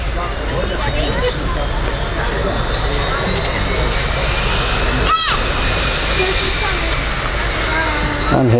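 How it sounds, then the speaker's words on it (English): A Dassault Falcon 900 private jet arrives from Paris Charles de Gaulle at Manchester Airport, its loud engine roar steady and close throughout with a rising whine, while a person talks over it. "here comes Dassault. Aircraft is a Falcon 900"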